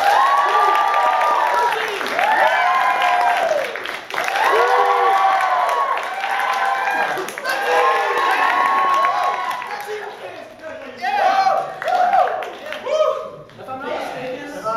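Audience applause and cheering erupt for the red team at a Halloween improv comedy show, a loud sustained crowd roar with clapping that tapers into scattered claps and shouts near the end, voices mixed in.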